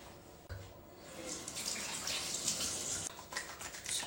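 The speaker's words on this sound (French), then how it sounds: "Bon, je vais rincer." Tap water runs steadily into a sink while someone rinses their face, a close, continuous broadband splashing with brief shifts and little bursts as hands move through the stream, and no talking.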